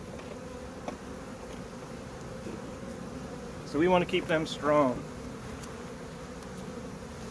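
Honey bees around hive nucs during hive management give a soft, steady buzz in the background, while a person speaks briefly partway through.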